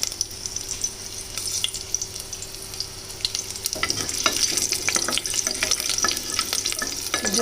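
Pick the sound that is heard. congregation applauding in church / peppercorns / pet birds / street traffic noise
peppercorns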